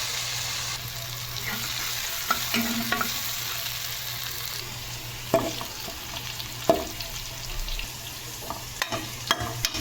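Eggplant frying with a little salt in a pan for a chutney, a steady close sizzle broken by scattered clinks and scrapes of the stirring spoon.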